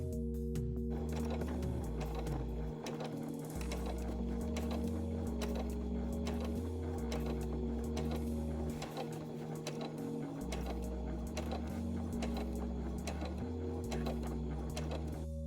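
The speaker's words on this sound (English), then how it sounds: "we're going to stitch it down with a gentle stitch just to hold that in place along the seam" A home sewing machine top-stitches along the pressed seam of a fabric face mask, a steady mechanical whir with a rapid needle chatter that runs continuously throughout, with brief shifts in pitch as the speed changes.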